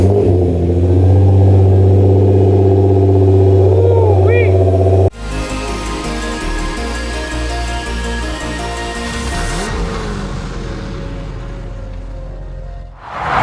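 A Nissan GT-R R35's engine revs in a shop, a loud sustained rumble climbing and settling, then cutting off abruptly near the end.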